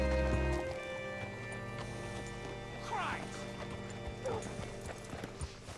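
A horse in Red Dead Redemption 2 clip-clops at a steady walk and gives a short whinny over a low, droning music bed, with the hoof steps close and clear.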